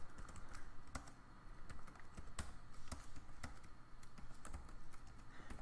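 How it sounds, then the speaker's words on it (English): Rapid typing on a computer keyboard while entering switch statement code, with steady overlapping key clicks and occasional sharper taps running continuously throughout, close and alone with no talk. "going to go ahead and type out everything"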